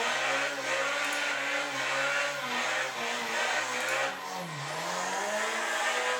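A car drifting in Assetto Corsa, its engine holding a strained, wavering high-rev drone with tire squeal layered over it and pitch dipping and rising as it slides, steady and fairly quiet, no voices.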